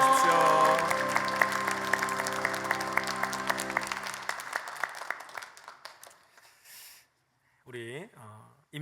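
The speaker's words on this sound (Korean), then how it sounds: "큰 박수로 축하해 주십시오." A church congregation applauds at a baptism and confirmation service. Sustained music rings beneath the clapping, which thins into scattered claps before a brief voice speaks near the end.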